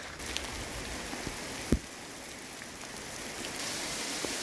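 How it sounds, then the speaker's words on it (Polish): Hail begins falling outdoors in spring, a steady dense patter of small icy pellets striking surfaces around, with one sharper close knock partway through and no talking. "bo zaczyna padać grad"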